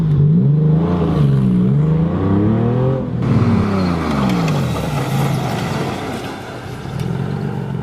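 A Porsche 911 engine accelerating up toward 40 mph, a loud continuous drone whose pitch sweeps up and down in waves as it revs, with road and wind noise filling in behind it.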